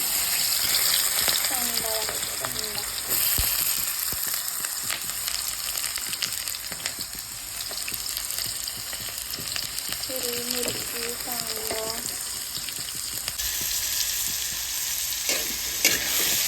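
Chopped onion dropped into hot oil with cumin and mustard seeds, giving a loud, continuous close sizzle with scattered crackles and stirring for the whole stretch, with faint voices now and then.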